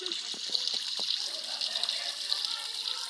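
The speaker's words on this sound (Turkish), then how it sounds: "dur saçını yıkıyorum" Running tap water pours steadily while a child's hair is washed with shampoo, a continuous close gush with a few brief splashes and voices early on.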